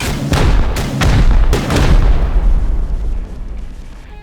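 HV rockets from Rust slam into a turret in a string of loud, booming explosions, about four sharp blasts spaced roughly half a second apart, each followed by a rumbling decay, with no talking.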